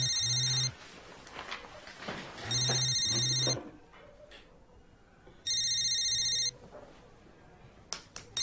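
A telephone rings in three separate electronic bursts of about a second each, evenly spaced, with quiet room noise and faint movement between the rings.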